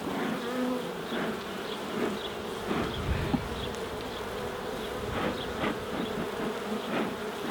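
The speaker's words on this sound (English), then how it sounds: "look, all this was flying bees and the old queen" Honey bees fly around a hive outdoors on a calm day, a dense, steady buzzing swarm heard close by, with individual bees droning past on top of the continuous hum.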